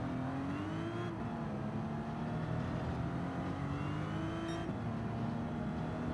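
A Jaguar D-Type from 1954 in Gran Turismo 7 accelerating hard, its engine note climbing steadily through the gears with a brief dip at each upshift, loud and continuous with no talk.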